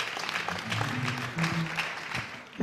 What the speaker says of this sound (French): Nous acclamons encore très fort pour le roi des rois.